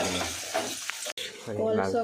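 Puris fry in hot oil in a home kitchen, a soft bubbling sizzle beneath a person's talk, with a short gap midway.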